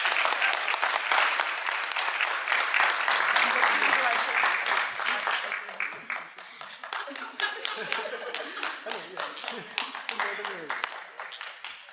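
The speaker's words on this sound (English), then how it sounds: "So please everyone give a round of applause for Jenna Kirkendall" Audience applause at a student awards night ceremony, a loud, dense burst of many hands clapping that carries on steadily, then thins somewhat in the second half while still continuing, with no speech over it.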